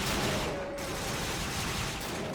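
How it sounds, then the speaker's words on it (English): Rapid magic Gatling-gun barrage in the video game Ys Origin, a dense continuous burst of rattling fire filling the whole moment, loud and unbroken. "Plus, the guy knows the magic version of a Gatling gun."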